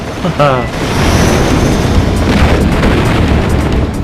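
Missiles bursting in the Nintendo flight game Pilotwings 64, a loud sustained rumbling boom filling the clip after a brief sweeping tone at the start.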